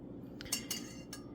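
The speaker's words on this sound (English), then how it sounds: "Give it a good stir." A spoon stirs clear aspic liquid laced with Madeira, giving a few light metallic clinks against the container over a faint background, quiet and close.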